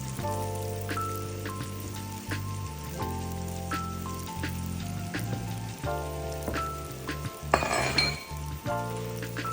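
Puff puff dough fries in sunflower or soya vegetable oil, a soft steady sizzle beneath repeated metallic clinks of a utensil stirring against the pot.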